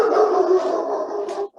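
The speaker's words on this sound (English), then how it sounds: "I'm going to let the dog out. He's going nuts." Nine-month-old, 80-pound German Shepherd giving a drawn-out, howling bark, one sustained loud vocal close by that breaks off abruptly at the end.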